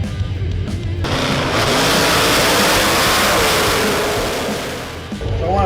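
A top fuel dragster engine on a drag strip at Toronto Motorsports Park builds from idle into a sustained, loud, harsh roar that swells for several seconds, then drops back to a rough idle, heard close up.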